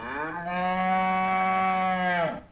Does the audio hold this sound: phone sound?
no